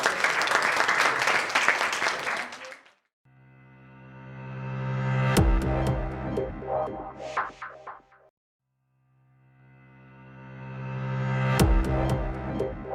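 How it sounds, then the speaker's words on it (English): Audience clapping fills the first three seconds at the close of a Hamfest India 2017 breakaway session, a dense, loud burst of hands that stops abruptly before a sustained musical passage takes over and swells again later. "now all the claps of all audience will be the memento"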